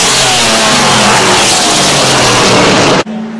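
A vintage race car at the Goodwood Revival roars close by on the track, a loud sustained engine drone that cuts off abruptly near the end, leaving a quieter idle hum.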